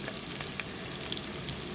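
Plenty of sliced onions sizzle steadily in hot oil in a pan while being browned for a Bisaya-style chicken dish with papaya and malunggay, a dense continuous close frying hiss with faint stirring.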